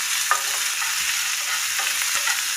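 Ginger, green chilies and chopped dried red chilies fry in oil for masala dosa filling, a steady close crackling sizzle broken by a few spoon scrapes, with no voices.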